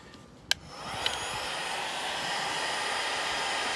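A hot air gun or hair dryer starts up with a click and settles into a steady, close, loud whooshing roar as it heats white-discoloured plastic on a Range Rover door handle.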